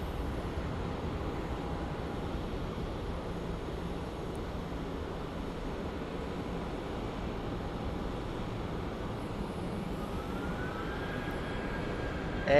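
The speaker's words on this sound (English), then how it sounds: "I can hear a little Frontier Airlines powering up" Frontier Airlines jet powering up for takeoff at Phoenix Sky Harbor International Airport, a constant distant engine roar with a thin whine rising near the end, no voices.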